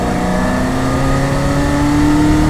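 A 650-horsepower LT4-powered 1969 Camaro restomod pulls hard at full throttle in fourth gear, its loud, steady engine roar rising in pitch throughout with no talk over it.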